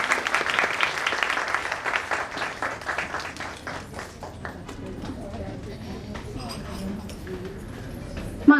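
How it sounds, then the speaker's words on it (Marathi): Audience applause at a cultural variety show held by a community association in Virar, with dense clapping loud at first and gradually thinning and fading over several seconds. "त्यांच्यासाठी एकदा टाळ्या होऊन जाऊ द्या."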